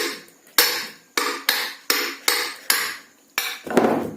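A hammer taps a metal part of a ceiling fan, ringing out in about eight sharp metallic knocks, roughly evenly spaced with short decaying rings. The knocks are close and clear, and a duller clatter comes at the end.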